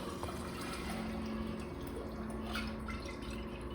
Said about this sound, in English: Now we're gonna put our black cherry juice in.